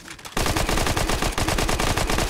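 Rapid, loud gunfire from a pistol in the video game Fortnite, starting abruptly after a brief quiet moment and continuing as a dense burst of repeated shots close up, with no talking over it.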